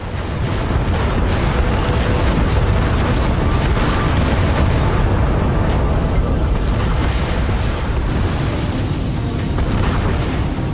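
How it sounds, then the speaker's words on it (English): An explosion in the space-combat video game Everspace 2 produces a loud, sustained roaring blast and rumble that fills the whole stretch with dense, noisy crackle and never drops off. "Vacate this area at once. Explosion imminent."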